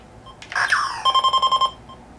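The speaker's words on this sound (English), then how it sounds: "you'll notice the little beeping speeds up, meaning it's a little bit more intense." A short electronic chirp from an original Lazer Tag toy, then a rapid run of about seven sharp, evenly spaced beeps speeding up, loud and close with no talking.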